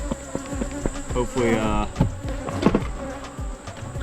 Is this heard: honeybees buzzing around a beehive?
yes